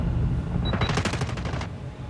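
An M16 fires in Call of Duty Mobile, a single rapid burst of roughly ten close, sharp shots in quick succession, loud over a low background rumble of the game.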